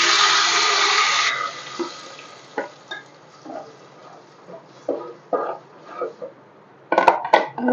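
Ground masala paste pours into a pan of hot oil seasoned with cardamom and bay leaves while making mutton kulambu, starting with a loud, rushing, splashing sizzle, then softer scraping, stirring and clinking.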